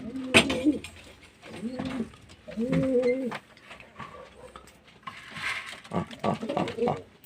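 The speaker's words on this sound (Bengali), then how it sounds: "পায়রা কেমন খাবে দেখুন" Pigeons being fed coo repeatedly at close range in soft, throaty bursts, with a voice talking faintly in between.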